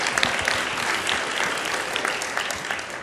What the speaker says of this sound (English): I want to first applaud our mayor because, he does deserve applause.